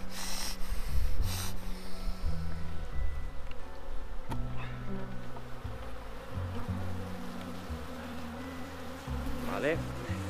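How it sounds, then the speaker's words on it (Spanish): Honeybees swarm around an opened beehive, their buzzing close and continuous with individual bees flying past the microphone; a few soft rustles and handling noises occur and someone speaks briefly in Spanish. "Y como veis, hay cantidad de abejas."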